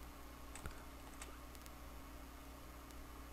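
Faint, sparse clicks of typing on a computer keyboard while working in Unreal Engine 5: a few soft keystrokes scattered over a few seconds against a quiet background hiss.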